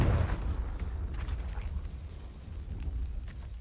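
A Confringo fire spell bursts in Hogwarts Legacy, a loud booming blast up front that rolls into a rumbling, crackling tail lasting a few seconds, with no voices.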